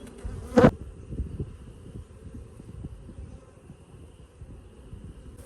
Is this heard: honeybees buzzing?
yes